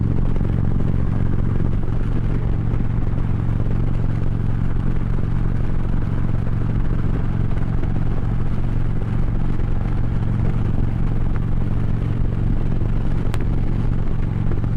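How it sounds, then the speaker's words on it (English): A motorcycle cruising along a road on a Fourth of July ride, its steady low engine drone and wind rumble continuous and loud throughout with no talking. "I love the way this bike rides."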